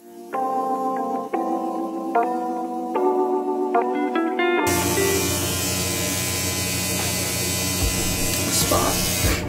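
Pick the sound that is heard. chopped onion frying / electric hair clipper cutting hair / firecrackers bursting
electric hair clipper cutting hair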